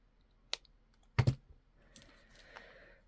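Small wire cutters snip the end off a length of beading wire while making a shibori necklace, giving a single sharp click followed by a quick double snap, close and alone in a quiet room.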